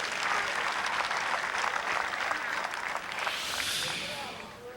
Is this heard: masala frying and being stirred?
no